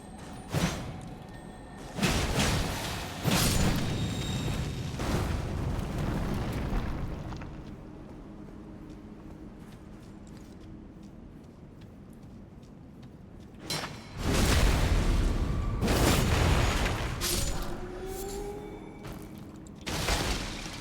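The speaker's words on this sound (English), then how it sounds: "Oh, it's an exploding scarab." Exploding scarab blowing up in the video game Elden Ring: several loud, rumbling blasts with broad crashing bursts, a long quieter stretch between them, and no talking.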